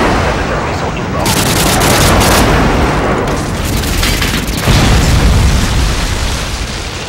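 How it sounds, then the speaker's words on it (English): A Predator missile explosion in Modern Warfare 2 on the Derail map gives a loud, rumbling boom that rolls on for seconds, with gunfire-like bursts and crackle mixed through it. "Predator missile inbound."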